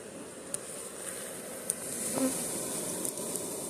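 Honeybees buzz steadily around an open hive during a spring comb repair, a close, continuous insect drone with a few brief sharper buzzes as individual bees pass near.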